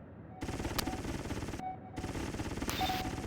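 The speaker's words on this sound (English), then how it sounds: "Watch out for those turrets, Slater." Rapid automatic turret gunfire in the G-Police video game, two tight bursts of fast repeated shots separated by a brief pause, loud and close.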